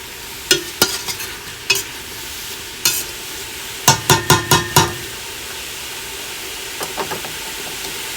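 Onions and mushrooms sizzle in a pan for spaghetti sauce while a utensil stirs them, with sharp scraping clacks in short bursts and clusters over a constant frying hiss.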